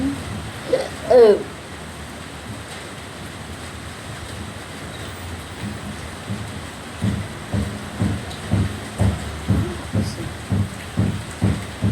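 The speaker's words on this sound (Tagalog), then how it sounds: "Sarap ng ulan." Steady rain falls outside, a continuous soft wash of noise heard from indoors, with a few brief louder bumps and a stretch of rhythmic nearby sounds over it.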